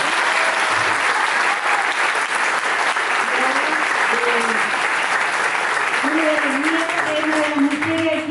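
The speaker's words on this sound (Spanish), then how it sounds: "Un aplauso para ellas" Sustained applause from a crowd, steady clapping throughout, with a few voices and cheers rising above it toward the end.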